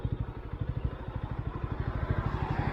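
A motorcycle engine idles after the bike comes to a stop, a close, steady chain of rapid low thumps pulsing evenly throughout, with no voices.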